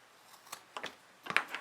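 Scissors snipping the fabric of a sewn dog walking bag, giving a few quiet, separate crisp cuts spread over under two seconds, close by with no talking.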